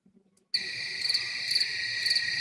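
Cricket chirping switches on abruptly after a brief near-silence, a steady high pulsing trill that carries on evenly to the end, with no talking.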